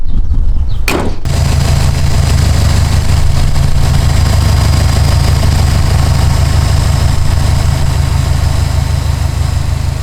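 A car engine idles steadily in an open engine bay after a cleaning, a loud, close, even low rumble running throughout, following a brief clatter at the start; the motor runs a bit noisier than normal.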